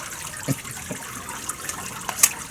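A large carp, about a metre long, is let go back into a lake, giving a few short watery splashes and sloshes up close, with no voices.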